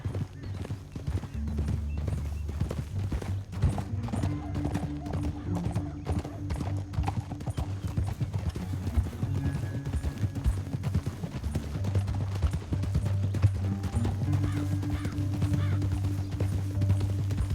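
Steady clip-clop of horse hooves trotting in the video game Red Dead Redemption 2 over a low rumbling music bed, rhythmic and continuous, with no clear voices.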